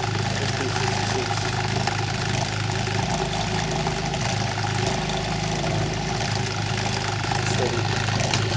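An engine idles steadily at about 1500 RPM, a loud, even low rumble with a constant mechanical drone and a slight vibrating buzz that holds unchanged throughout.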